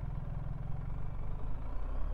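The engine of a 2024 BMW R1300GS motorcycle with an automatic gearbox runs at low revs during slow manoeuvring, giving a steady, fairly faint, low rumbling idle heard close by with no talk.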